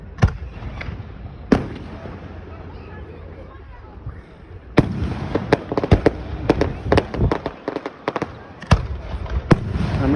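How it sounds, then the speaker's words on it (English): Fourth of July fireworks show in Gouverneur, New York: several loud, sharp booms and crackling bursts at irregular intervals, denser toward the end, with a quieter stretch in the middle. "They always had the best fireworks in the county."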